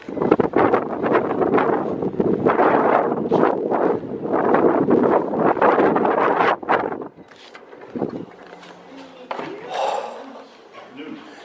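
Wind blowing outdoors near an airport, a loud, steady buffeting rush across the microphone that drops away abruptly to calmer indoor quiet, with people talking briefly afterward.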